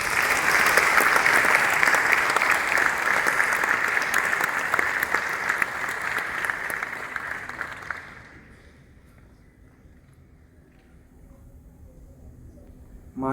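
An audience gives a big round of applause welcoming Dr. S. Jaishankar, India's foreign minister, on his visit to Nigeria. The dense, loud clapping carries on for about eight seconds, then fades away into a quiet room.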